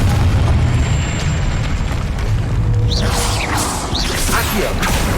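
A Confringo spell explosion in the video game Hogwarts Legacy on PS5: a loud, booming blast with whooshing swirls over dense rumbling game sound, lasting several seconds with no break.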